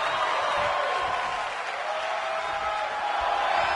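A virtual arena crowd in the WWE 2K24 wrestling game roars in a steady, dense wash of cheering that holds at full level throughout with no clear breaks.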